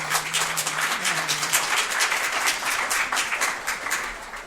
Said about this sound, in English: I'm going to allow the clapping for this one